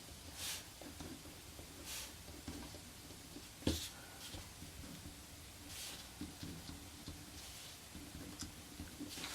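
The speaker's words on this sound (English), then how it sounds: "I'm just gonna write in day" A pen writing in a Happy Planner: soft, intermittent scratching strokes in short bursts, close and quiet, with one sharper tap midway.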